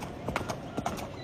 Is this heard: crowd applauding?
no